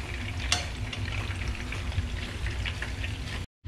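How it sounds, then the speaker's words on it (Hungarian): Beef and chicken meatballs frying in a pan give a steady close crackle and sizzle with scattered spits and pops, running unbroken until a brief cut near the end. "Szóval addig fogjuk így pörgetni őket, amíg meg nem sülnek egy kicsit."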